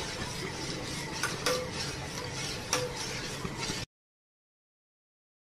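Spoon stirring milk payasam sweetened with jaggery in a pot, a steady soft scraping swish with a couple of sharper clinks against the pan, heard alone and close for a few seconds before falling silent.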